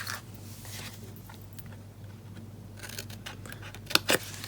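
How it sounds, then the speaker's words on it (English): Scissors cut into a paper treat box, a couple of quick close snips near the end after quiet handling noise. "The next one we're just going to cut completely in."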